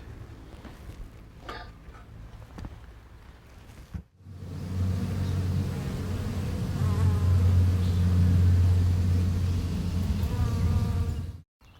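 Honeybees from eight open beehives buzz loudly and steadily, a dense close swarm drone that swells after a short quieter stretch and holds without pause, with no talk over it.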